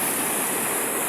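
Rushing water of Mainit Falls at Brookes Point, Palawan, a steady, dense roar that stays constant and close throughout, with no voices.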